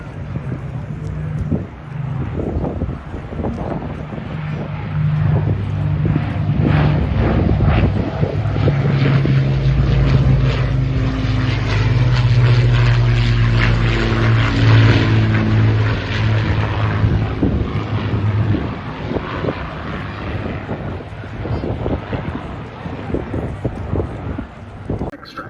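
An Avro Lancaster and a Boeing B-17 fly overhead at an air display, with a loud, sustained propeller drone that rises and fades amid wind buffeting on the microphone.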